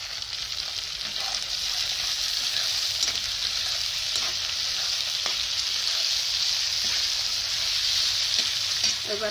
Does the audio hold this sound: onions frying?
yes